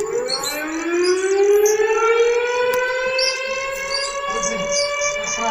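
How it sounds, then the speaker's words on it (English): Brazilian alarm system siren under test, a single loud tone rising slowly in pitch and holding steady with rich harmonics, sounding continuously and close with no talk over it. "Este teste da sirene do sistema de alarme."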